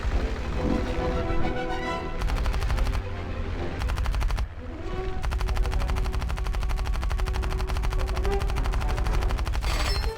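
Aircraft machine guns, 7.92 mm, fire in long loud rapid bursts during a vehicle combat video game dogfight, with short breaks between volleys over constant engine drone.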